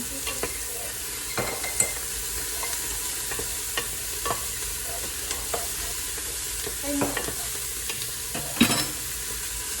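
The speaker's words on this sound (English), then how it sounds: "go ahead and stir that in" Garlic is stirred with a standard spoon into shepherd's pie filling in a pan, giving steady soft scraping and mixing with a low sizzle throughout and a few louder clinks near the end.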